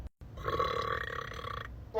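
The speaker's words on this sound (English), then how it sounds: "The burps will live on forever." A single long, drawn-out burp, fairly close and resonant, starting after a brief pause and holding for over a second before fading, with a short sound at the end.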